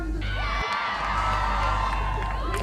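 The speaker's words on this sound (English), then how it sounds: "In Australia, huge crowds gathered in cities across the country" Large crowds at climate crisis demonstrations in Australian cities, a dense wall of cheering, whooping and shouting voices that stays loud throughout.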